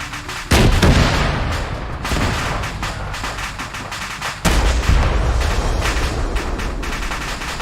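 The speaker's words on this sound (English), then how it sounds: "Rocket, rocket." Rocket launcher fired in a military shooter video game, two heavy blasts a few seconds apart, each a loud sudden boom with a rumbling tail, amid ongoing gunfire-like noise.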